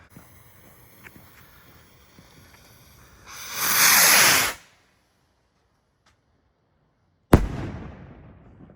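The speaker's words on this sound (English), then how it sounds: "this is a bomb on a stick salute rocket." Bomb on a stick salute rocket firework launching outdoors, a long rushing hiss of lift-off, a pause of silence, then a single sharp, loud bang with a fading tail.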